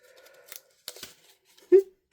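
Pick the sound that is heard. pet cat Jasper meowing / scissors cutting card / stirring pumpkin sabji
scissors cutting card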